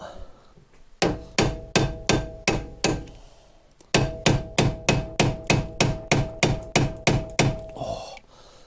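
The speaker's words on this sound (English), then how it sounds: "Sometimes you need a bigger hammer." Repeated heavy blows from a bigger hammer on a stuck Lotus Evora front brake pin, close and loud: a run of five strikes, a short pause, then about a dozen more in a steady, even rhythm.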